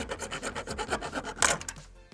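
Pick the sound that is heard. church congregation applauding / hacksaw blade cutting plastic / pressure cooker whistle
hacksaw blade cutting plastic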